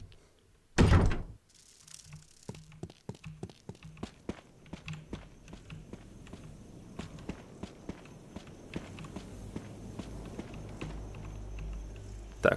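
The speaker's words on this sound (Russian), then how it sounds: "Так, эта дверь у нас откроется" A door opening in the survival horror game Resident Evil HD Remaster, with a loud creak and thud early on, then a run of distinct footsteps and clunks across stone floors under faint game ambience.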